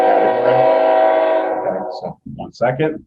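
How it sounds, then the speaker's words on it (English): Passing train with a long, loud horn blast that sounds steadily for about a second and a half and then fades, followed by someone talking. "That's the train."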